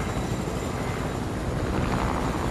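Choppa helicopter in the video game Fortnite, a steady loud rotor and engine whir holding constant for the whole stretch with no talk over it.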